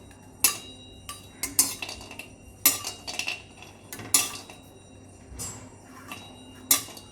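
Metal spoon clinks and scrapes against a pan as nutmeg and whole spices are dry-roasted and stirred, giving sharp intermittent taps at irregular intervals over a quiet background, with no one talking.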